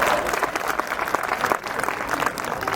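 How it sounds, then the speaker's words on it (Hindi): A large audience at a talk gives loud, dense applause, many hands clapping together in a steady roar that fills the whole stretch without pause or voices on top. "जोरदार तालियां हो जाए"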